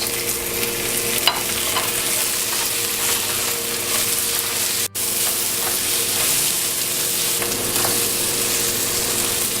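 Green peas, chickpeas and garlic-ginger paste fry in a pan, a continuous broad sizzle with occasional stirring scrapes, steady and close throughout.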